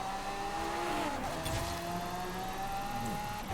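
A car in Forza Horizon 5 driving back and forth, its engine droning steadily with pitch shifts as it slows and speeds up, plus a short tyre squeal, loud and close with no voice.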